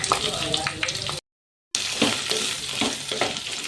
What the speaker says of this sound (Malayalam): പാവയ്ക്കയുടെ കയ്പ്പ് മാറാൻ വേണ്ടിയാണ് നമ്മൾ എണ്ണയ്ക്കകത്ത് ഇത് വഴറ്റിയെടുക്കുന്നത്